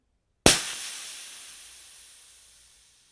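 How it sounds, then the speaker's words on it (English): Pressurized air bursts out with a sharp hiss as a PCP fill line for an Ataman M2R .22 air rifle is bled, starting abruptly and then fading steadily over about three seconds, loud and close with no other sounds. "bleed the air between your fill source and the gun"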